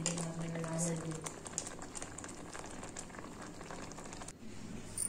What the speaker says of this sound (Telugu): ఇక మసిలి ఇట్లా చిక్క దగ్గరికి రావాలి.